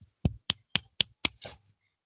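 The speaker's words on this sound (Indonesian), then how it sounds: "Tepuk tangan dulu buat Rafa." Hands clapping in an elementary school classroom for a student, five or six sharp evenly spaced claps at a steady rhythm, close and fairly quiet, then a brief rustle.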